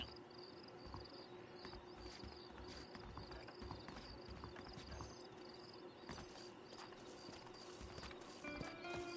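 Horse hooves in the video game Red Dead Redemption clip-clop steadily at a moderate distance, with occasional whinnies over a constant background of chirping insects.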